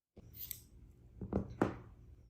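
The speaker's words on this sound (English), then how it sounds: "We cut the yarn." Scissors snip through crochet yarn in a few close, crisp cuts, a light scrape and then two sharper snips with no talking.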